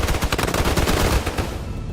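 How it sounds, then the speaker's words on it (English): Rapid, dense bursts of gunfire crackle continuously, loud and close, thinning out toward the end, in the video game Snowbreak. "Gunfire ripped through the calm plains."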